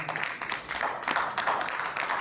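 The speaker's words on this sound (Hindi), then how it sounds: "एक बार इनके लिए जोरदार तालियां बजा सकते हैं आप" A seated audience at a Royalty School gathering in Hodal applauds a guest, producing brisk, uneven bursts of clapping that swell and dip over a couple of seconds.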